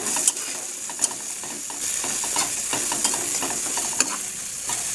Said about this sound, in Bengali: এটা দিয়ে একটু ভাজা ভাজা করে নেব।